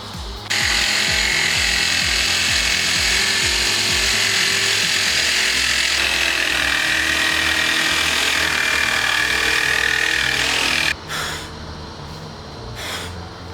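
A power tool cuts a notch in a homemade front splitter for an Acura RSX Type S (DC5), giving a loud, continuous high whine with a rough start that stops abruptly near the end, and no talking.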